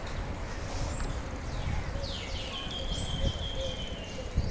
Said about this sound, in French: Ah, puis les oiseaux qu'on entend là.